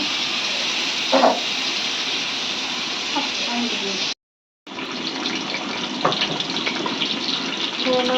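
Water pours steadily into a cooking pot as a loud, continuous gushing stream, briefly cut off midway before pouring resumes with faint clinks.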